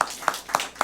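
A church congregation claps in a slow, even rhythm, four distinct sharp claps spaced about a quarter second apart, moderately close with no talking over them.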